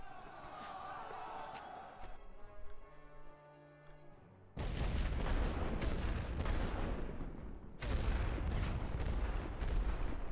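Artillery in The Great War: Western Front game booms in heavy, sustained volleys after a quieter stretch of tonal hum, loud rumbling fire that surges again near the end.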